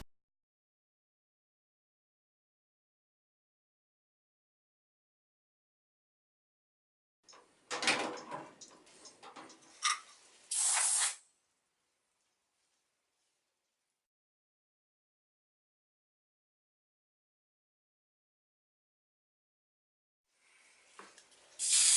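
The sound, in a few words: spray can spraying varnish on wood slices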